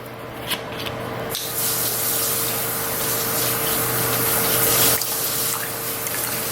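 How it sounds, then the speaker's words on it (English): A steady, hissing splash of apple cider vinegar pouring close up, running for several seconds with a faint background hum and a brief pause near the end. "I add a splash of apple cider vinegar."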